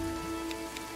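Steady rain falling on a surface in the trench warfare game All Quiet in the Trenches, a faint continuous hiss with a few soft drop accents and a low hum beneath.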